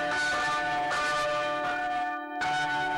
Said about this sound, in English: 600-year-old bells, only recently restored, rang out at St Andrews in Alfriston.